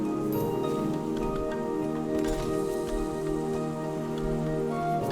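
Rain patters in the game Sally's Law, a dense field of small drops over a steady tonal background of game music, moderately loud and continuous, with no voices.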